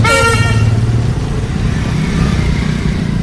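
A scooter engine starts up close by, a brief rising burst giving way to a steady low idle rumble that continues on its own.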